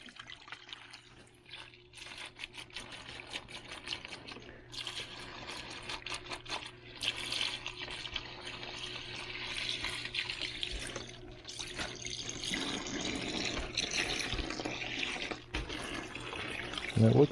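Evapo-Rust, a water-thin rust remover, is poured from a gallon jug into a container during a 1973 Craftsman 113 table saw restoration, making a steady splashing trickle that runs for several seconds with a brief louder gush near the end.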